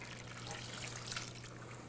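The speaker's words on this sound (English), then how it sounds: "And now I'm going to add the rest of the wine." Wine poured into a pot of braising bison pieces, a steady soft trickle of liquid running continuously for a couple of seconds at low level, with a faint hum underneath.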